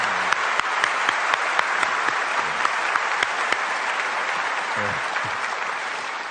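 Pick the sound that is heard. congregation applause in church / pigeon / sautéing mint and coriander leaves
congregation applause in church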